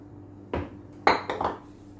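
Brownie batter for eggless Oreo brownies being mixed by hand in a bowl after flour goes in, heard as a few separate close scrapes and knocks of a utensil against the bowl with quiet gaps between them.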